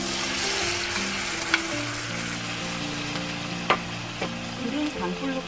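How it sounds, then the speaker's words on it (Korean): Monkfish with its roe and milt frying in a little oil for braised monkfish, a steady loud sizzle with stirring and a few sharp utensil clacks against the pan, no talking. "기름을 살짝 두고 여기에 아구, 알, 고니 다 넣어주세요."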